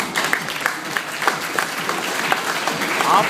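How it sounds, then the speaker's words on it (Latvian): Applause rising from an audience at a school evening celebration, a steady crowd of clapping hands with faint voices and some music-like tones mixed in underneath. "Aplaus!"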